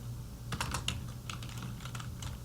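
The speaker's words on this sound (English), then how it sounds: "I'm going to type in where I'm going to be" Typing on a computer keyboard in a computer lab, a quick run of close, crisp keystrokes in irregular clusters with no voices.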